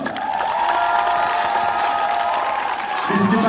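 Crowd at a live rap battle event cheers, whoops and applauds as a band is welcomed, a dense continuous roar with a swell of shouting near the end.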